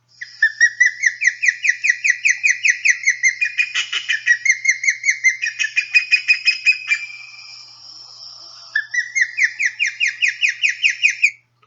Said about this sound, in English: So a series of high-pitched whistles is very distinctive for the osprey.